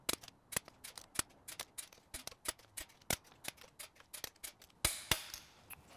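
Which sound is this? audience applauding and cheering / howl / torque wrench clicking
torque wrench clicking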